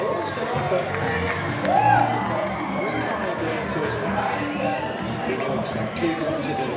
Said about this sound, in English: Let's get a big round of applause, ladies and gentlemen, for the game Vikings.